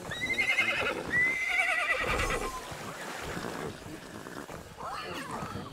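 Horse in Minecraft neighing as it wades through water, with a whinny and splashy hoof sounds running under a man's excited speech throughout.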